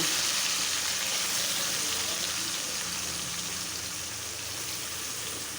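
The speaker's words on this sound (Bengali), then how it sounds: "তেলে ভাজব" Chicken pieces fry in hot oil in a home kitchen, giving a loud, steady, dense sizzle that hisses without a break from start to finish.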